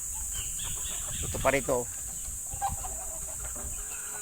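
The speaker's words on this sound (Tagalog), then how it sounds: "Kinuha ko na iba kong mga manok." Chickens kept at a farm near mango trees give a brief run of clucks and a short squawk at close range over steady background noise, with someone speaking briefly.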